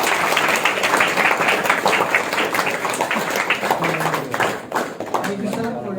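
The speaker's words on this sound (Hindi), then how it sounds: "हम ताली बजाकर" Audience at a Christmas program clapping to welcome a chief guest, a loud, sustained burst of many hands applauding for several seconds, with a few voices faintly audible beneath.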